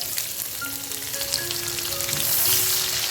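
Chopped onion hits a pan of dry red chilli and whole-spice tempering for an egg curry, giving a steady close-up sizzle and crackle that swells slightly louder toward the end, with no voices.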